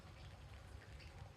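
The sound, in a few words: light rain falling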